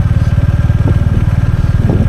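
A motorcycle in second gear climbs a steep mountain track in Chamba, Himachal, its engine a close, steady, throbbing low thrum of rapid even pulses with no voices.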